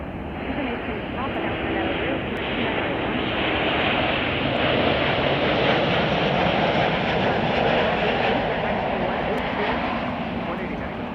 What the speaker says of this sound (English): here's Southwest Flight 1424 coming in from Denver